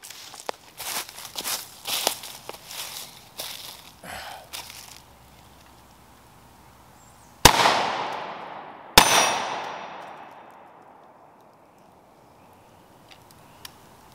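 Two loud, sharp gunshots from an AR-15 rifle with a binary trigger set to semi-automatic, spaced about a second and a half apart, each ringing out in a long fading echo outdoors, after some light clanking and handling noises.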